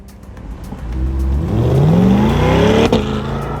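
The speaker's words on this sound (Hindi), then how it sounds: "वाह, क्या कूल कार है।" A car drives past on a U.S. university campus in New York, its engine rising into a loud, sweeping drone that peaks mid-pass, with rising engine tones and no talk.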